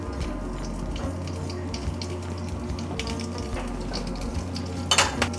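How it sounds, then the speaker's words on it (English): Mustard and cumin seeds frying in warm oil in a pan for dhokla tempering, a steady close sizzle with small crackles and a few light metallic clinks of a utensil, louder pops near the end, no speech. "once mustard seeds start popping up"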